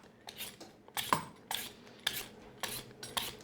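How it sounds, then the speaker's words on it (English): Peeler scraping the tough skin off a butternut squash, a series of short rasping strokes at a steady rhythm, close and moderately loud with no talking. "Just peel away and expose that nice orange flesh underneath."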